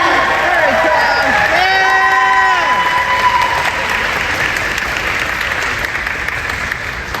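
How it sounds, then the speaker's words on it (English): Crowd applause and cheering at a Sonic Expo 2024 cosplay competition, loud and sustained throughout, with whoops at the start and a synthesized musical sting rising over the clapping. "Round of applause, round of applause."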